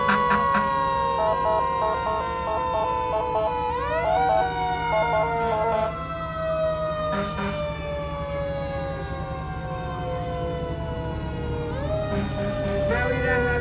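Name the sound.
fire department engine sirens in a parade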